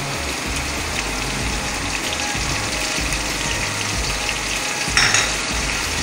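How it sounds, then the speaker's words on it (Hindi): Curry leaves fry in hot oil with white cumin seeds in a pan for mixed daal, crackling in a dense, rain-like sizzle held at an even level, with a brief sharper spatter near the end. "करी पत्ता अच्छा सा फ्राई हो जाए"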